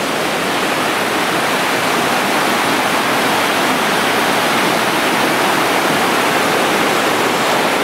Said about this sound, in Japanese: 昨日よりかはちょっとなんか水の量が減ってて、音もちょっとなんか小さくなってる気がしますね。